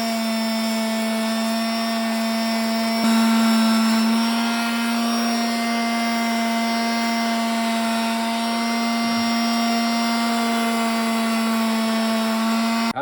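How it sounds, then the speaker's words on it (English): A power grinder smooths a copper Abraham Lincoln bust, giving a loud, steady motor whine with a strong, unbroken hum that holds evenly for the whole stretch. "And now we grind this smooth."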